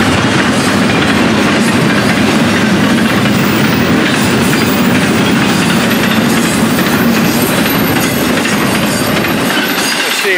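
A loud Florida East Coast freight train carrying private cars rumbles past close by at night, with a continuous roar and rhythmic clatter of wheels on the rails, no voices.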